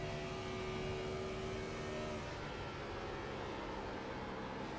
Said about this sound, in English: You can just listen to the tire squeal as he enters the corner.